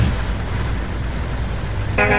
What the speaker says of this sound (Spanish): Suena bastante bien, la bocina de este camión.